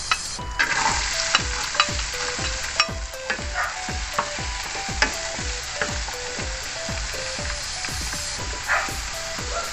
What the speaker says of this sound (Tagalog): Halo-haluin lang natin hanggang sa lumabas yung bango